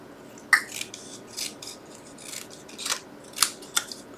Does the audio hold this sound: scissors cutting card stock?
yes